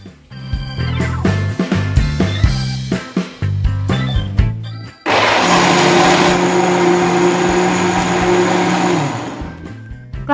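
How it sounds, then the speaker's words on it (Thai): An electric blender whirs loudly as it blends soaked five-colour beans with a cup of boiled drinking water. The motor starts in short pulsing bursts, then settles into a steady continuous roar for the second half of the clip. "ใส่ลงในเครื่องปั่นนะคะ"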